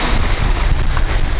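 Strong autumn wind blows over water while fishing from the shore, a loud continuous buffeting rush across the microphone with a churning low rumble of waves beneath, no speech heard.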